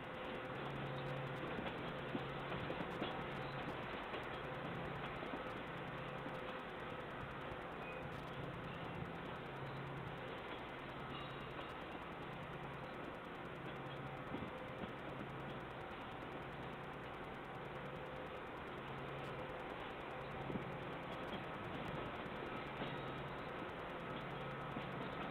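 A business train rolls slowly into a station shed, giving a steady, continuous low rumble and hum with a faint pulsing engine throb throughout, no talk over it.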